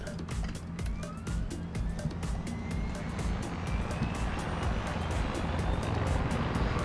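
Helicopter in Far Cry 6 flying with a fast, rhythmic rotor chop over a dense, loud engine roar, steady and continuous throughout with no talk.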